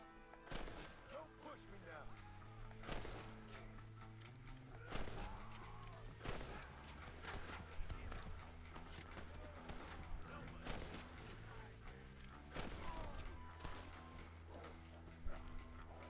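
Horse hooves clip-clop in the video game Red Dead Redemption, mixed with sharp gunshot cracks and someone talking over the game sounds.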